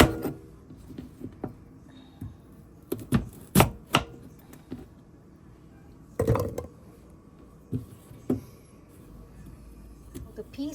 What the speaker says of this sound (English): we're gonna be peeling and chopping everything